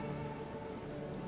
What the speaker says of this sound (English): Oh god, it's starting to weather. Rain.